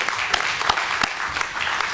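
A keynote conference audience applauds in steady, dense clapping that fills the room at close range for a short burst.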